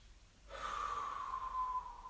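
Slow, steady breathing during a morning stretching routine, one long audible exhale through the nose and mouth, close and soft, with no talking.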